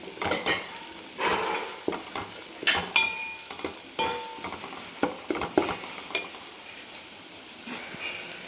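Crushed ginger-garlic paste frying with onions for a green moong dal curry crackles and sizzles close by while a spatula repeatedly clanks and scrapes the pan in uneven bursts, with no talking.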